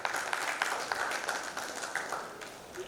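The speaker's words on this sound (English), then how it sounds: "A huge round of applause." Conference attendees at a digital government services event in Guwahati clap in a moderate, fairly quiet round of applause, scattered hand claps blending into a continuous patter.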